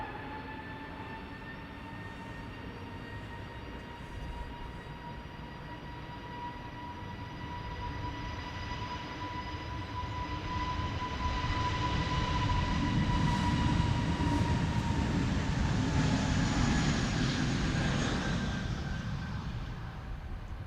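A British Airways A320neo jet takes off from Amsterdam Schiphol, a steady whining engine tone with a deep rumble that grows gradually louder toward the middle and then eases off, heard alone at a moderate distance.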